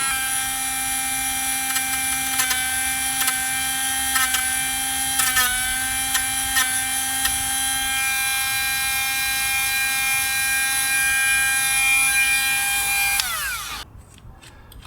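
A cheap Dremel rotary tool grinds ridges off a curbed Tesla Model 3 wheel: a steady, loud high-pitched motor whine runs nearly the whole time, then spins down and stops near the end.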